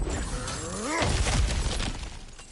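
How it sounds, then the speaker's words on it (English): Objects get smashed apart in the video game God of War Ragnarok, a loud shattering crash followed by scattered debris and rumble, after a brief grunt-like vocal sound. "back to smashing through things for fun and profit"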